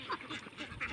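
Domestic ducks quacking in short nasal bursts, a few calls in quick succession, faint and close-ish against a noisy background.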